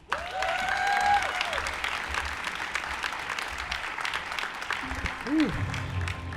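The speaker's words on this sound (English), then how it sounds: "please give a round of applause for Deputy Mayor John Hines" An awards-ceremony audience applauds as Deputy Mayor John Hines is introduced, a continuous wash of clapping at moderate distance with a few faint voices and brief tonal squeals mixed in.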